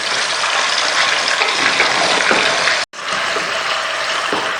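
Potato and radish curry being stirred in a pan, a steady close sizzle and scrape of the mixture with a brief gap midway.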